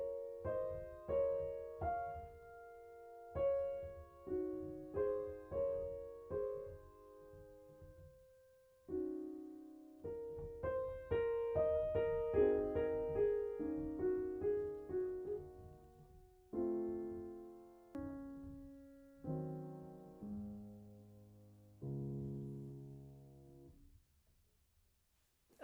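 Debussy's Clair de Lune on piano without pedal, its notes clearly separated and decaying between phrases, played quietly and alone in a slow, rubato flow.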